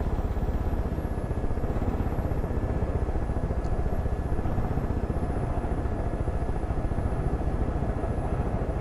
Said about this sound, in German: Das gibt's ja nicht. Tatsächlich, 3 Hubschrauber.